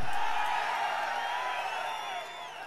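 A dense crowd roars and cheers at an outdoor political rally for the ADMK in Dharapuram, a steady loud wash of voices and whoops that eases slightly toward the end.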